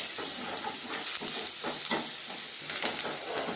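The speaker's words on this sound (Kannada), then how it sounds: "ಈರುಳ್ಳಿ ಸ್ವಲ್ಪ ಬಾಡಬೇಕು. ಎಣ್ಣೆ ಒಳಗೆ ಸ್ವಲ್ಪ ಬಾಡೋಂಗ ನೀವು ಕೈ ಆಡಿಸ್ಕೊತಾ ಇರಿ." Onions sizzle in hot oil for sabudana upma while a spoon scrapes and stirs the pan, giving a steady close hiss broken by brief scraping bursts, with no voices.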